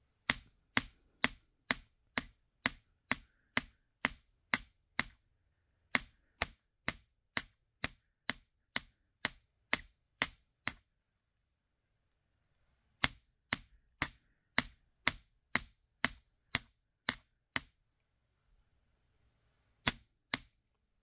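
Sharp metallic hammer strikes ringing on metal, flattening earring and pendant pieces, struck in quick steady runs of blows separated by short pauses, close and clear.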